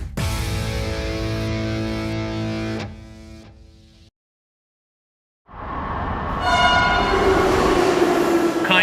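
A train horn sounds over a passing train's rumble, loud and steady for about three seconds, then fades into a short silence before a second loud rush of rolling train noise with a sustained horn tone.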